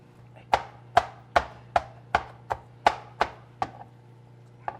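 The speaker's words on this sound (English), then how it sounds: "the other large chunk of onion, and I'm dicing it up" A large chunk of onion being diced with a knife on a cutting board: about ten crisp, evenly spaced chops that ring out sharply and close up over a faint steady hum, no talking.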